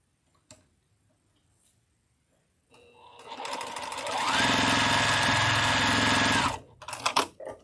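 A sewing machine runs steadily for a few seconds while piecing quilt fabric at a quarter-inch seam, starting abruptly after a quiet pause with a few light clicks before and after the stitching run.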